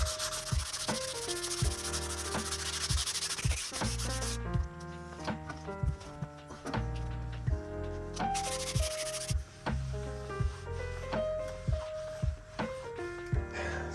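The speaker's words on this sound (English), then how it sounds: "So first part of sanding, it's already nice and smooth on the edges." Rhythmic wet sanding of a Yamaha Fazer motorcycle wheel by hand, repeated gritty rubbing strokes on a hard surface, close and steady with brief pauses.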